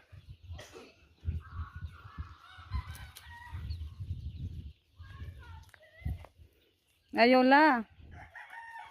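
Chickens cluck softly in a rural home yard under scattered talk, then a rooster lets out a loud, full crow near the end.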